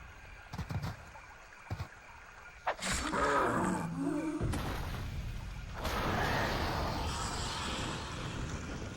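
The Tiger Guy monster in the Buffy the Vampire Slayer Xbox game lets out a loud, drawn-out roar that swells and carries on under a rough rushing noise, after a few sharp knocks and thuds at the start.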